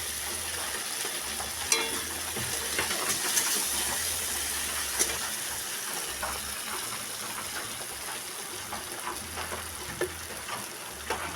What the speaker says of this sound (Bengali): মশলাটা ভালো করে ভেজে নিতে হবে।